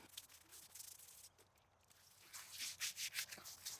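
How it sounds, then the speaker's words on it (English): Stain remover solution being scrubbed into wet wood, a soft, irregular brushing and rubbing that swells into louder, rhythmic strokes in the second half, heard close up with no talking. "now I'm scrubbing the solution into the wood"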